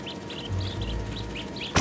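A white-throated bee-eater calling in the video game Spider-Man 2: a string of short, chirpy bird calls repeating steadily at moderate distance over a low ambient rumble, ending with a brief louder rustle.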